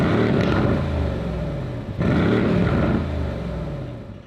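A powerful older pre-facelift AMG car engine revs loudly in two deep, throaty bursts, close by, with a rough burbling rumble between them.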